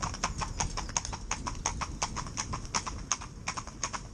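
Hooves of two young horses driven in tandem clip-clop in a quick, steady rhythm, each strike crisp and close, continuing without pause and with no voices over it.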